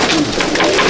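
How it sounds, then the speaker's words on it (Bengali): Pigeons in a loft in Akra, Kolkata, a dense close chorus of cooing from many birds at once, loud and continuous. "সব আমার পায়রা"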